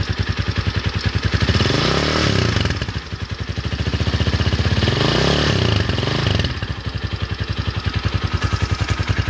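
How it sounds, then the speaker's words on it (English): A DF250RTG motorcycle engine runs close by, idling with a fast, even, throbbing chug, and its pitch swells twice into brief revs before settling back to idle, with no talking over it. "Gonna turn this bike on for you. This bike sounds fucking awesome."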